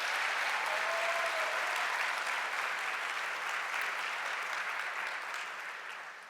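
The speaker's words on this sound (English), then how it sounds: "I would like to ask the room to once again applaud these individuals" A room full of people at a lunch keynote event applauds steadily, a dense wash of clapping that holds strong for several seconds before gradually tapering off near the end.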